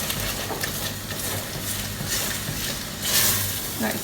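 Tomato sauce for vegetable lasagna being stirred in a pan, with soft scraping, bubbling and faint sizzling running continuously and a brief louder scrape of the utensil toward the end.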